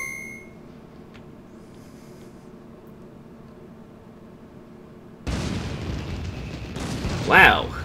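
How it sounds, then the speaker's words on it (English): Fireworks in the ending sequence of Pokémon Black 2 erupt halfway through as game audio: quiet background music gives way to a sudden burst of crackling, booming noise with a brighter pop near the end. "Fireworks."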